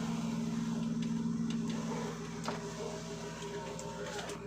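A BMW E36 325i power window motor hums steadily for several seconds inside the car, a continuous mechanical whir that changes pitch slightly partway through as the glass travels.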